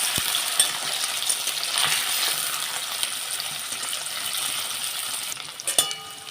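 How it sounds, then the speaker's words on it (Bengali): Constant hissing sizzle of paneer frying in a pan, fairly quiet and close, with a few sharp metallic clinks near the end. "পনিরগুলোকে আমি এবার একটু ভেজে নেব লাল লাল করে"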